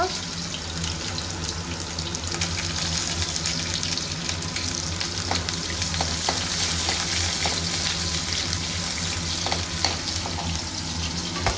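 Onions frying in a pan for chow mein, a steady close sizzle with occasional clinks of stirring, and a constant low hum of a running chimney underneath.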